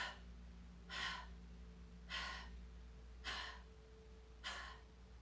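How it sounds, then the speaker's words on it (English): Four forceful belly fire breaths from a chair yoga exercise, each a sharp, breathy exhale burst evenly spaced about a second apart, close and alone over a low steady hum. "We're gonna do 5 belly fire breaths."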